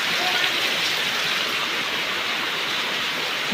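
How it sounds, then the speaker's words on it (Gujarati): Heavy village rain pours down in a steady, dense hiss, loud and unbroken. "એટલો વરસાદ પડે"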